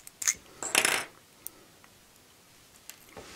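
Small plastic clicks and scrapes from working a card out of an S.H.Figuarts Masked Rider Knight Survive action figure, a quick cluster of taps followed by a few faint ticks in a quiet room.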